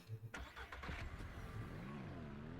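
Car engine starting and driving in the video game Ranch Simulator, a close mid-pitched engine turning over, then a steady running hum with a rising and falling whine as it pulls away.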